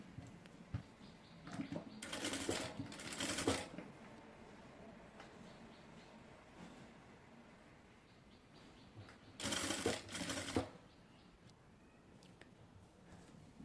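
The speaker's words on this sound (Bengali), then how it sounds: "আমি এই পাশটাকে হচ্ছে একদম সেমভাবে হচ্ছে সেলাই করে নিব" Stitching on a sewing machine runs through fabric for designer pants in two short whirring bursts, with quiet handling sounds between them in a still room.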